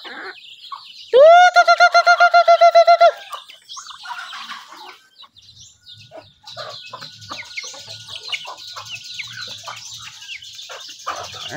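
Birds called crows are fed by hand, with a loud, sustained rhythmic cackling burst at first, followed by busy, scattered chirps and calls from a flock nearby.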